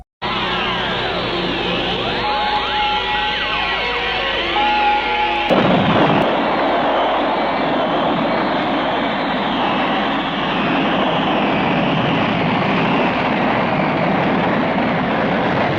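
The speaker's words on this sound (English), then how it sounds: "The kidnapper manages to escape in a rocket" A rocket launch in an old Superman-style film sends out a loud continuous roaring rush, building from layered whining tones into a broad sustained blast that holds for over ten seconds.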